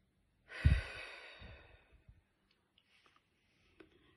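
A slow, deep breath out during a calming exercise: one long exhale that swells quickly and fades over about a second, followed by faint small rustles, with no talking.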